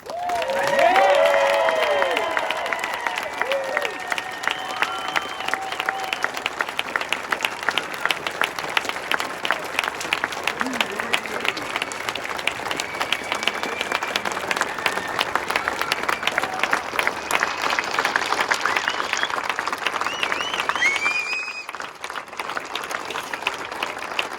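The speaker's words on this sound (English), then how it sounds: "Please, as they join their families, give them a round of applause" Outdoor crowd applause at the Mount Rushmore nighttime ceremony: many hands clapping steadily and continuously for a long stretch, with some cheers and a whistle early on, spread wide across an open-air audience.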